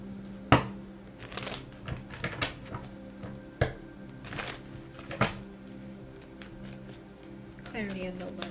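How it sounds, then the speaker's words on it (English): Tarot cards shuffled by hand during a reading, with crisp riffling and tapping bursts scattered over several seconds, close and moderately loud, with a steady background hum. "We're going to shuffle again."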